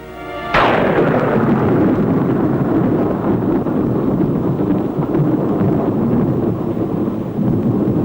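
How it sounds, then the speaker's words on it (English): A nuclear explosion's blast wave hits the trenches with a sudden loud boom that becomes a sustained roaring rumble and rushing wind, lasting several seconds with no talk. "Seconds later, the blast wave reaches the trenches."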